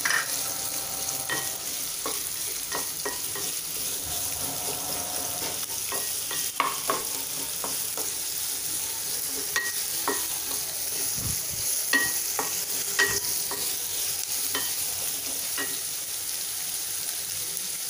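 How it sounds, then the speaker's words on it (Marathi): Onion sautéing in hot oil for a fresh-cashew bhaji, a continuous close sizzle broken by frequent scraping clicks as a spoon stirs the pan, with no voice. "कांदा 1-2 मिनिट आपल्याला छान परतून घ्यायचा आहे,"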